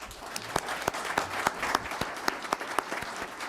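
An audience at a school board meeting applauds, a steady patter of many hands clapping at moderate volume for a few seconds, with no talk over it.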